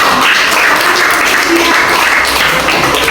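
Loud burst of hand clapping from a classroom group of children during an Indonesian civics lesson, dense and steady throughout, with faint voices mixed in.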